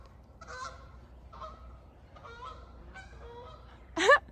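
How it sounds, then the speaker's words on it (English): Several geese honk near a lake in spring, a few scattered calls at moderate distance followed by one louder, closer honk at the end, over quiet outdoor background. "Can you hear the geese?"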